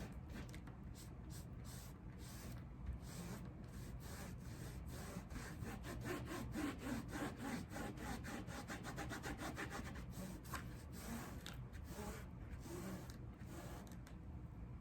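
A washcloth rubs back and forth over a diamond painting canvas sealed with Mod Podge Lustré, a close, continuous scrubbing swish in fast repeated strokes.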